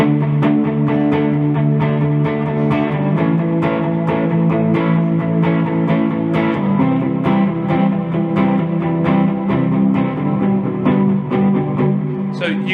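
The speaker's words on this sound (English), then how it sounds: "If I want something a little grittier, I can turn on the MXR 78." Electric guitar played through a Fender Blues Deluxe Reissue amp with an MXR overdrive engaged, a gritty crunchy tone of steady, rhythmic strummed chords sounding loud and close for the whole stretch.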